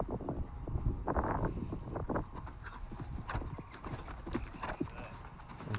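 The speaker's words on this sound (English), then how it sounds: "Horse needs to come off of a jump thinking straight and quiet." A horse's hooves clip-clop across the ground after coming off a jump in a riding arena, a steady stream of hoofbeats under wind noise and some background voices.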